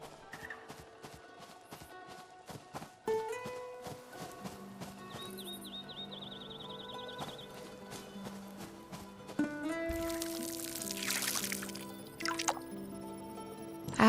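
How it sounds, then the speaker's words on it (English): Watering beet seeds in the farming video game Fractured Blooms: short dripping and squishy splashing liquid effects sound over soft background music, with a louder watery burst near the middle. "Then I watered the beet seeds."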